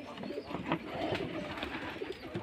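Rajshahi Giribaj pigeons at a pigeon farm give soft, overlapping coos and murmurs, moderately close and continuous amid light background noise.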